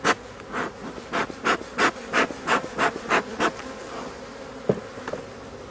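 Honey bees buzz around an opened hive after swarming, their droning hum rising and falling in a rapid series of close swells, then thinning to scattered fainter buzzing.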